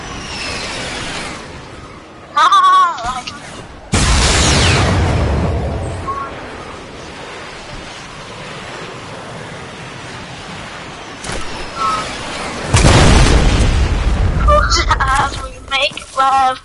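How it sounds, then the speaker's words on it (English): Missile launched and exploding in a video game's playground mode, with several loud, abrupt booming bursts rising out of quieter background noise, each decaying over a couple of seconds, while a player talks over parts of it. "Got a missile cause I'm shooting it and then detaching it."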